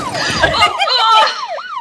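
A wailing ambulance siren from the Courier Simulator video game sweeps up and down in loud, close, rising and falling tones, with a voice briefly mixed in at the start.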